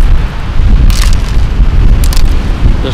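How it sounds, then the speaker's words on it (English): Strong wind buffets the microphone on Dungeness Beach with rough seas, a loud continuous roar with heavy low rumble and a few gusty bursts, no voices. "it's incredibly windy. Very windy, in fact."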